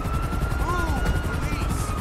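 Helicopter in GTA V with the LSPDFR police mod, a steady rotor drone with a constant hum throughout, loud and continuous, with voices faintly in the mix.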